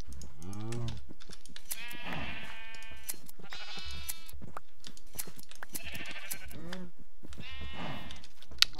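Minecraft sheep bleat in several short, close calls spread across the stretch, with a German-speaking player talking over and between them amid game clicks.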